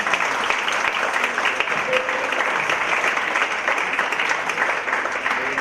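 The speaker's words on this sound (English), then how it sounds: "I think she deserves another round of applause." An audience at a talk on pain and neuroscience applauding the speaker, a sustained, even wash of many hands clapping throughout with a few faint voices underneath.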